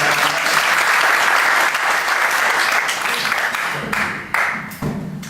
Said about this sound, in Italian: Un applauso perché quello che sta facendo.